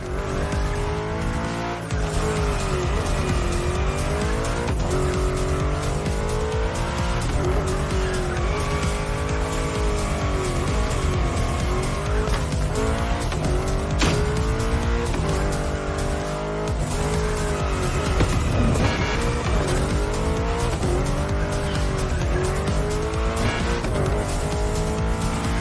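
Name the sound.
car drifting with tire squeal in video game The Crew Motorfest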